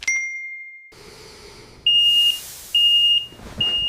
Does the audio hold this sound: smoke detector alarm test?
yes